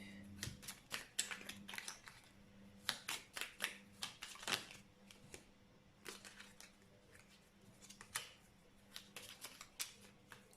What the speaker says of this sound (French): Les cartes, elles sont petites et elles sont grandes. Alors, pour les mélanger, c'est pas évident.